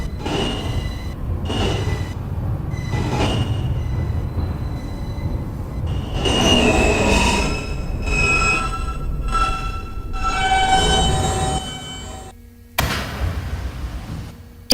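Queens-bound New York subway N local train of R160 cars running between Canal Street and Prince Street: loud continuous rumble and clatter of wheels on track, with squeals and a sharp drop near the end.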